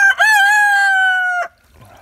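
A homestead rooster lets out one loud, close crow lasting more than a second, then a quieter murmur follows.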